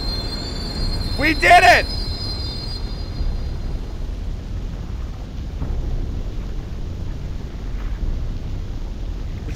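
A train in the video game Threshold rumbles along with a steady low roar, and a sharp metallic wheel squeal rises briefly near the start; a person speaks over it.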